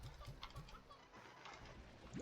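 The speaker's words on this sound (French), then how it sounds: "Le coq." Rooster and hens in the video game Slime Rancher, a few soft rhythmic clucks and a rising squawk, faint beneath quiet game ambience.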